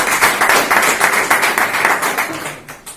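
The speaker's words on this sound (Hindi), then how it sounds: "एक बार अपने लिए जबरदस्त तालियां" A crowd at a business growth seminar bursts into vigorous applause, loud and near, with dense clapping sustained for about three seconds before tapering off.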